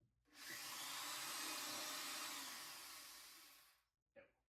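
A steady, loud electric drill whirs into wood for about three and a half seconds while building a workbench, then stops, followed by a brief short burst.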